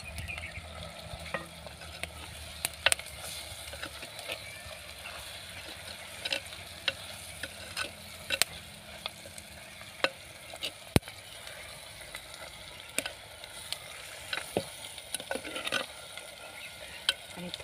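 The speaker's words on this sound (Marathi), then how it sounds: "आता फोडणीला छान तेल सुटलेलं आहे, याच्यामध्ये मी पापड घालून घेते" Papad frying in hot oil for a Maharashtrian papad bhaji tempering, giving a steady soft sizzle with occasional stirring clicks and scrapes against the pan, fairly quiet and without voices.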